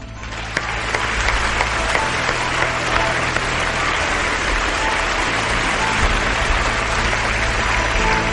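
A theatre audience applauds steadily and loudly throughout, a dense continuous wash of clapping from a large crowd at a stage performance of The Exorcist.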